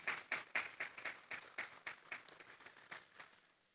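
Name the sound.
church congregation applause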